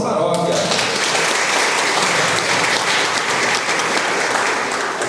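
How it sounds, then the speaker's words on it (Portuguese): A parish church audience applauding, dense sustained clapping from many people filling the room, with a voice speaking at the very start. "Palmas para a nossa paróquia"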